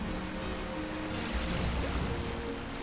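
Swimming through water in the video game Okami: a steady rushing wash of surf-like water noise with soft low tones underneath, continuous and even throughout.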